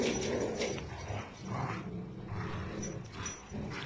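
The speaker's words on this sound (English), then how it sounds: "She just pulled a 9-pound dog." A dog straining and pulling while growling in low, rough bursts, fairly quiet and close, with no one talking.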